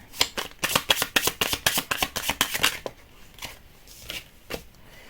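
Tarot cards shuffled in a quick, crisp riffle of rapid snapping flutters for nearly three seconds, then a few softer, scattered card slides and taps, all close and with no talking.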